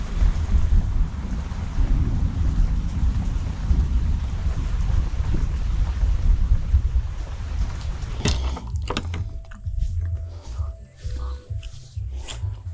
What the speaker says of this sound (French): Oh là là, c'est la tempête.